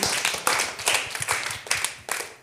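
A group of children clap together for the week's honoured child at a Malayalam children's TV show, bursts of hand claps overlapping in an uneven, lively patter.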